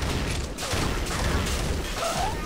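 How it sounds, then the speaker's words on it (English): A grenade blast in Unreal Tournament, a short loud burst landing amid a continuous fusillade of weapon fire during a capture-the-flag match, with no talk over it. "She grenaded."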